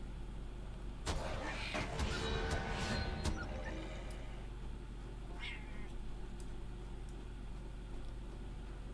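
A visiting cat named Thief Kitty gives a few close meows in a quiet room, clustered early and followed by a fainter meow later, over a low steady background hum.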